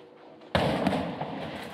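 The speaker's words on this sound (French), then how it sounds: "Ce qui marque, c'est l'ampleur des destructions et les bruits d'explosions." A single sudden loud explosive boom, part of the blasts amid destruction in Beit Hanoun, Gaza, erupts after a quiet rumbling stretch and rolls into a sustained roaring tail.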